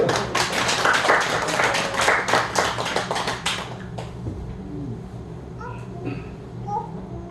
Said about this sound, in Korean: 우리 감사하면서 한 박수 한번 할까요?